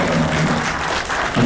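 Applause from the audience at a Kannada film poster and song launch press meet, a steady wash of clapping that stays loud through the clip, with some low voices beneath it.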